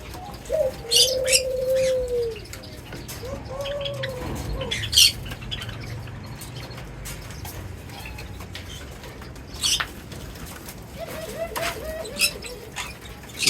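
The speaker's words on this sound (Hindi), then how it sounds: "बाकी यूरेशियन कॉलर डब के मैंने चिक्स आपको दिखा दिए थे" Eurasian collared dove chicks give soft coos and chirps up close, short calls scattered among quiet rustling and small clicks.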